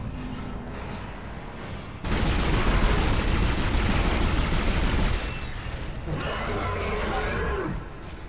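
Gunfire in the video game Dead Space erupts as a sustained, dense burst of loud shots and impacts layered over a dark rumbling ambience, then drops back to the quieter background.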